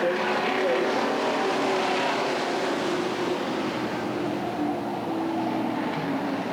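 Street stock race cars, including an Impala, roar around a small track during a heat race, a loud, steady wash of engine noise heard from the stands.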